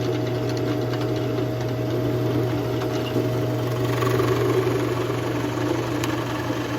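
A drill press bores an off-center bit through wood for an angled bean bag board leg, producing a steady, close motor hum with a constant drone and no speech.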